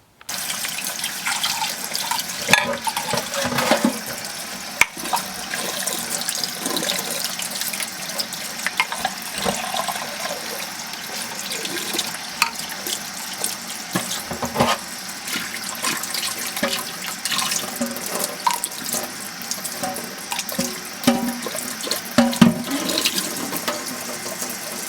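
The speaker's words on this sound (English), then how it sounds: "So now we're going to rinse it." Tap water runs steadily into a sink while hydrated Irish sea moss is rinsed under it, with continuous splashing and occasional louder spatters and handling sounds, close and alone without talk.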